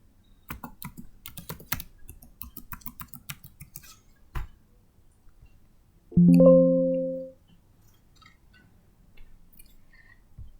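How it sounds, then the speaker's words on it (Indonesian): Quick clicks of typing on a computer keyboard for several seconds, then a pause and a brief tonal chime. "langsung saja mengaktifkan aplikasi ini dengan mengetik user dan password yang sesuai"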